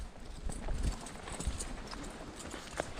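Carabao (water buffalo) hooves walking at a farm near a coconut grove, a steady irregular clip-clop of footfalls fairly close against outdoor background noise, with no talking.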